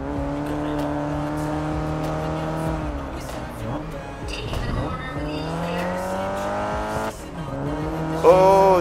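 Race car engine droning and shifting pitch in the Grid Legends racing game, with sustained revving tones, brief gear changes and a tire squeal near the end, a voice talking over it.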